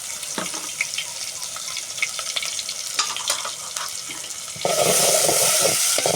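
Onion hits hot oil for a taro curry, a quiet sizzle with stirring clicks, then a sudden louder hiss near the end, close up and without talk.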